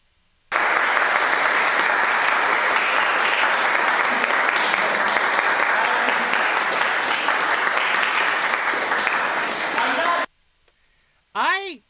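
Sustained, dense applause from an audience at a New Year's Eve event, loud and steady for about ten seconds before cutting off abruptly, followed by a short burst of talking.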